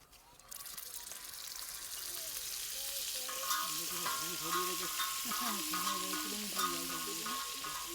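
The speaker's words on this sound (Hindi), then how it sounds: "थोड़ा डालेंगे इसमें अमूल का मक्खन।" Amul butter sizzling in hot melted ghee in an Indian kitchen while paneer is cooked, a steady close frying hiss with stirring scrapes, and a brief voice.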